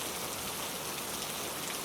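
Steady rain falls on surfaces in a quiet convenience store at night, a dense, even hiss of drops that continues alone without any talk.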